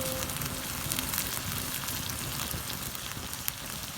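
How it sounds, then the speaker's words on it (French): Apples flambéed with calvados in a pan, a steady crackling sizzle with soft rushing flame noise close by, continuous and fairly quiet with no talk. "Voilà, on flambe les pommes et on attend que ça s'arrête."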